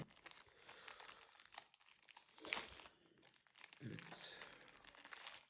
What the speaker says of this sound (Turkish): Evet şu şekilde poşetini bir açalım.